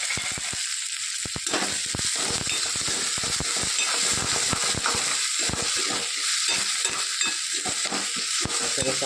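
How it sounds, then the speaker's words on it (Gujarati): Garlic, green chillies and spring onion frying in oil in a pan, a loud steady sizzle punctuated by rapid scraping and clicking strokes of a stirring utensil throughout. "આનામાં 2 પરી જેવું મેં તેલ મૂકી દીધું છે અને લસણ અને લીલા મરચાં લીધા છે"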